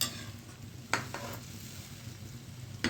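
Hot oil tempering (vaghar) in a pan for a Gujarati potato curry, a faint steady sizzle with a few sharp stirring clinks from a spoon against the pan.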